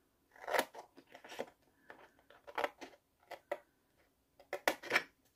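Scissors cutting paper for scrapbooking, with crisp close snips arriving in uneven clusters and short pauses between cuts.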